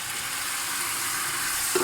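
Tomato hits a pan with chili for Bucatini all'Amatriciana and sizzles in an even, hissing wash, with a small stirring knock near the end and no voices.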